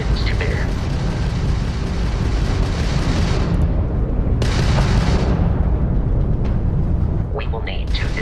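Weapons fire in Starfield ship combat against a Crimson Fleet ship forms a continuous, loud, rumbling barrage of blasts and roars that stays dense and heavy with no break from start to finish.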